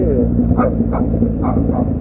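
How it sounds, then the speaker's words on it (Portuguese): Dogs barking in a street in Coab 1, a run of several yelping barks in quick succession under someone speaking Portuguese and the steady hum of a motorcycle engine. "cachorrada, né? Sempre. Não pode ficar sem cachorro no lugar."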